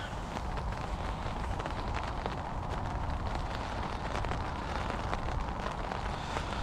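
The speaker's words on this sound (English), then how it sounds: "rain's coming down now." Steady rain pours down at a fishing lake, a dense, even hiss of drops pattering on surfaces close by, constant and unbroken with no talk over it.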